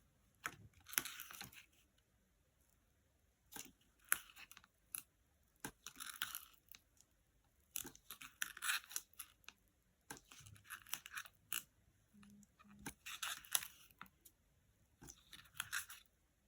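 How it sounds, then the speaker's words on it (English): Scissors cutting foam tape for an ocean-themed craft kit, a series of close, crisp crunchy snips arriving in irregular bursts over about sixteen seconds, with quiet gaps between and no talking. "And let's just snip that off."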